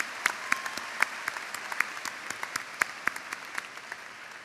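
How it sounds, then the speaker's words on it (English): A crowd at a high school graduation ceremony gives a round of applause. The clapping is faint and fairly sparse, with scattered distinct claps over a soft wash of hands. "Please join me in a round of applause."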